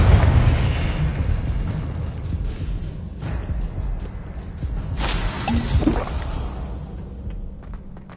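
Confringo explosion spell cast in Hogwarts Legacy on PS5, a booming fiery blast with a rushing roar, followed by further muffled bursts and crackling debris amid game ambience.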